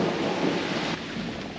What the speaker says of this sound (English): The rain is noisy.